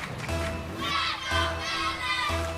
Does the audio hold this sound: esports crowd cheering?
yes